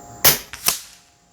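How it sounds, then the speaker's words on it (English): A single .25 Avenger BP air rifle firing an H&N slug at a 100-yard range: a sharp, loud close crack, a quick secondary pop and a short fading tail, with no voices. "I'm going to go ahead and try and shoot anyway."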